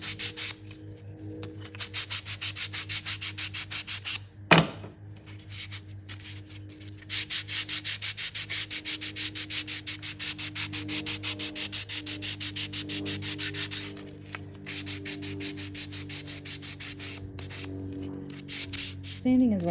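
Sandpaper rubbing steadily over small wooden coasters, including their end grain, in close, rhythmic strokes broken by a few brief pauses.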